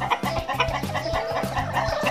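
Egg-laying hens on a small home farm cluck steadily and close by, a busy overlapping chorus of short repeated calls with no talking.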